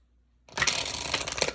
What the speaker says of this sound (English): So I'm gonna shuffle again.